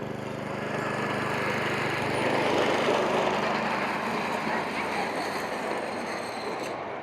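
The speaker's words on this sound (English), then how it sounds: "Here we have the mini train coming round." Miniature train running at a steam festival in Sheffield, Tasmania, rumbling steadily and fairly close for several seconds amid outdoor crowd ambience, with no clear speech over it.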